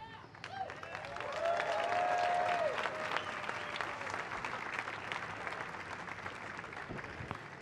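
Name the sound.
audience applause after fife and drum performance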